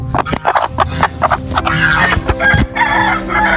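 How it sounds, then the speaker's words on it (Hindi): A Golden Buff hen clucks loudly and close while about to lay an egg, giving a rapid run of clucks that swell into a long drawn-out squawking call, with no voices. "हमारी जो गोल्डन बफ मुर्गी है वो मेरे ख्याल से अंडा दे रही है और कोने में बैठी हुई है"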